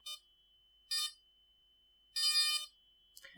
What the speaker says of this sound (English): the drone will beep and the lights will light up